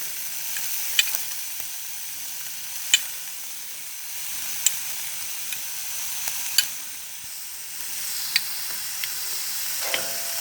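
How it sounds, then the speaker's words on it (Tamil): Green and yellow bell peppers sautéing in hot oil give a steady, soft sizzle with a few scattered ticks and clicks of stirring, heard close and alone with no talk. "அதை எண்ணெய் சூடு ஏறிட்ட பிறகு ஒரு 1லேருந்து ஒரு 2 நிமிஷம் சும்மா லைட்டாக வதங்கினா போதும்."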